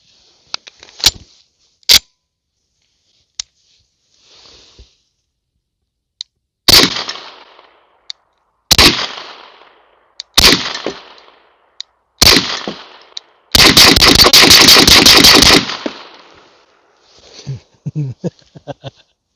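A suppressed Beretta 92 pistol fitted with a booster fires several sharp, loud, widely spaced shots, then a rapid burst of fire, each crack followed by a short decaying tail in otherwise quiet surroundings, with faint clicks between shots.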